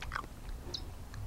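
Someone chewing a mouthful of Peruvian olluquito with charqui, a stew of ulluco tubers and dried meat, in soft, close, moist bites with faint crunches over a low steady background.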